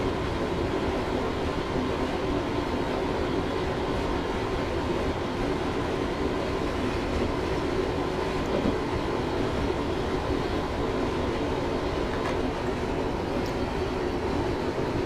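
A Class 321 electric multiple unit in Train Simulator 2017 runs with power idled on the Harwich Town to Manningtree route, giving a steady, loud rumble of wheels and motor with faint rail clicks and no talk.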